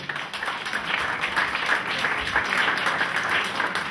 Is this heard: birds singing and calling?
no